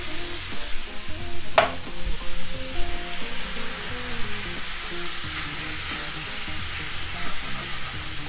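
Turkey hash fries in a pan with a steady, close sizzle and crackle throughout. A stirring scrape is heard now and then, and no one speaks.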